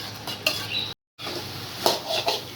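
Kerala-style pumpkin erissery sautéing in a pan, with close clinks and scrapes of a metal spoon against the pan over a low sizzle, broken by a brief silent gap.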